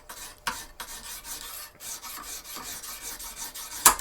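Steel knife blade stroked repeatedly across a coarse Lansky sharpening stone while a new 20-degree edge angle is set, giving a steady series of close, dry rasping strokes with a brief louder scrape near the end.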